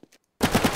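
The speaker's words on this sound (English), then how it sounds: "They're actually shooting at the Styracosaurus." Soldier NPCs in Garry's Mod firing guns at a Styracosaurus dinosaur: after a brief near-silent pause, a loud burst of rapid automatic gunfire with evenly spaced shots.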